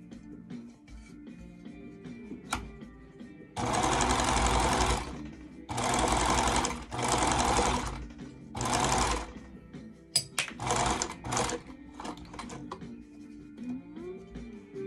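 Sewing machine stitching fabric for a face mask, several loud whirring bursts of varying length separated by short pauses and faint clicks, close by with no talk.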